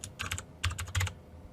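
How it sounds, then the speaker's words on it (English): Quick bursts of keystrokes on a computer keyboard, typed at a desk into a command line, in three short clusters of clicks with brief pauses between them, close and fairly quiet. "And just type in delete."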